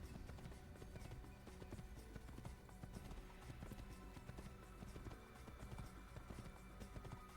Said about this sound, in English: I'm just a dude on a horse.